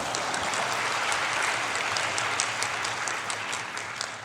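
An audience in a church hall applauds steadily for a speaker's mother, dense continuous clapping at an even level from start to finish.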